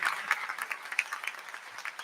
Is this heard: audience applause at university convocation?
yes